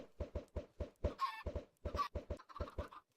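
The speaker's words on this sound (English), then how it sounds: "we'll have to face the sound of chickens clucking for the rest of this video" Minecraft chickens crowded into an underground chicken farm, clucking in quick repeated bursts with a few higher squawks, steady and close, with no talk.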